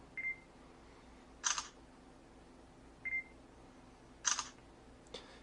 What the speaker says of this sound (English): You get a confirmation beep and you can snap the shutter.